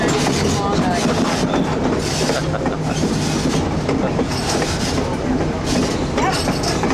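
A train rolls along rails in the Klondike near the US-Canada border, with a loud, steady rumble and rhythmic clickety-clack of wheels that continues without a break, close and enveloping.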